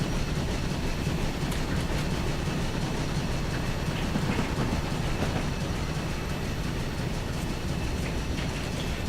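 Steam locomotive 3440 City of Truro running in Train Simulator 2013 between Paddington and Reading, a steady rolling rumble with rhythmic wheel clatter, continuous and moderately loud without voices.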